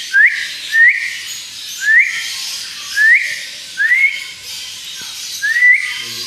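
A young African grey parrot gives six short rising whistles at a steady pace, clear and close with quiet gaps between them.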